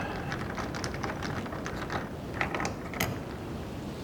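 Fastener being undone under the beak of a 2018 BMW R1200GS Adventure with a hand tool, a rapid run of small ratcheting clicks close by over a soft background hiss.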